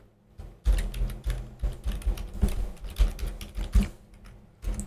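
Someone typing on a computer keyboard while coding a Flutter app, a close run of quick uneven key clicks in short bursts, with brief pauses between them.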